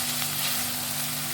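Boiled peas are stirred and sautéed in a hot pan for green spinach pulao, giving a steady, close, loud sizzle that runs unbroken with no talk.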